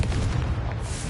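A Confringo spell detonates in Hogwarts Legacy as a short, heavy explosive boom with deep rumbling body, filling the whole brief moment loudly and alone.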